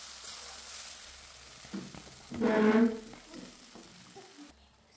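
Spinach paste frying in a pan with onion, garlic and spices, stirred for a while; a soft sizzle rises and swells into a louder burst of scraping and bubbling midway, then fades back down.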